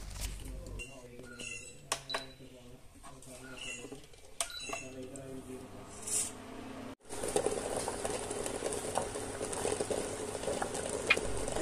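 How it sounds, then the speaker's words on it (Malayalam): Eggs boil in salted water in a pot, with dense, steady bubbling that rises loudly in the second half after earlier talk and faint clinks. "ഉപ്പ് ചേർത്ത് കഴിഞ്ഞ് കഴിഞ്ഞാൽ നമുക്കിതൊന്ന് പുഴുങ്ങിയെടുക്കാം"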